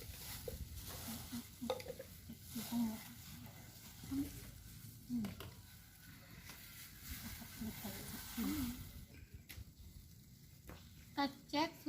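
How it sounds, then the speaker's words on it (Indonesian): Water goes into a hot pan on a stove while making liquid antiseptic soap, giving a faint, uneven sizzle and crackle with scattered bubbling pops over about twelve seconds, under soft talk. "Jika panci sudah panas, kita masukkan air"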